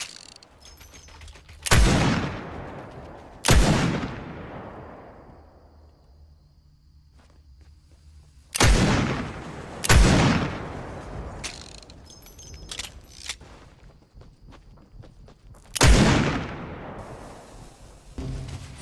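A scoped revolver in a video game fires five loud, sharp shots, each with a long echoing tail, spaced irregularly with quiet stretches between.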